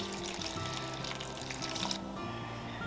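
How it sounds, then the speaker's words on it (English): Water pours into the bottom of a leak-proof seed tray, a soft steady trickle and splash running quietly for a few seconds. "I'm gonna remove one of these trays and I am going to add water to the bottom."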